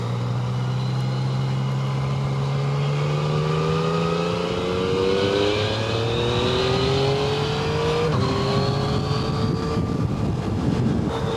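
A Yamaha Tracer 900 motorcycle engine revs steadily while riding through South and West Yorkshire, its rising, turbine-like whine climbing in pitch over constant wind and road rumble, close and loud with no talking.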